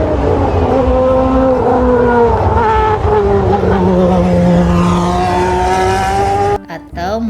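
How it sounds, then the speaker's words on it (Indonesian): A toy race car whines with a high, sustained engine-like tone that rises and falls steadily for several seconds, loud and close, then cuts out abruptly near the end. "ini namanya mobil balap"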